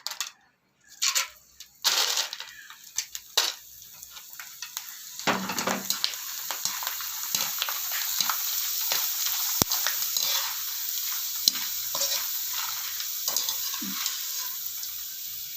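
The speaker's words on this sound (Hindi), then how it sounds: "अब हम इनको घी में फ्राई करेंगे।" Dried potato chips frying in hot ghee: a few clattering drops as the chips go into the pan, then a continuous bubbling sizzle with intermittent stirring clinks, close and fairly loud.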